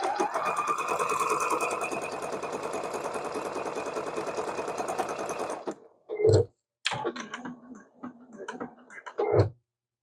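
A sewing machine runs a continuous satin stitch on a quilt block for about six seconds, a steady buzzing whir, then stops. Short clunks and handling noises follow.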